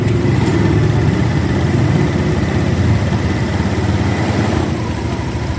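A Honda BEAT FI scooter engine runs at a steady, close idle with a low rumble and no talking.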